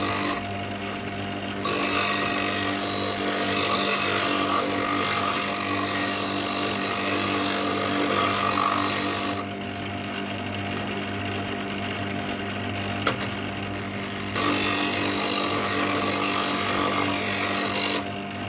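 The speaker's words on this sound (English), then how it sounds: "I just like to put a fresh grind on my bowl gouge, and I'm just going to do that on the bench grinder" A bench grinder puts a fresh edge on a woodturner's bowl gouge, a steady motor whine with a harsher rasping grind that comes in and out as the steel touches the wheel.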